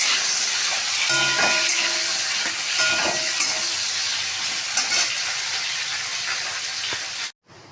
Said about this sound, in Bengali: আলুগুলোকে ভালো করে ভেজে নেওয়া হচ্ছে।